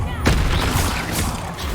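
A Confringo fire spell blasts in Hogwarts Legacy as a loud, dense burst of roaring, crackling noise lasting under two seconds, with a sharp onset near the start.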